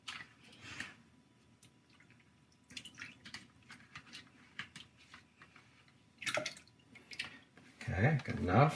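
Liquid pours and drips into a container in short splashy bursts while making yogurt, with clicks and a person talking alongside.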